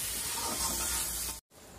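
Chicken filling for khasta kachori sautéing in a pan, a steady close sizzle and hiss that cuts out briefly near the end before resuming.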